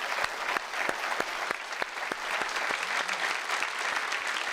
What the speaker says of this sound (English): let's give our speaker another great big round of applause